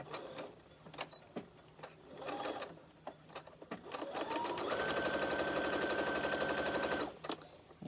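Sewing and embroidery combo machine stitching fabric for a book sleeve, a few short clicks and bursts at first, then a steady close whirring run of rapid stitches lasting a couple of seconds before stopping.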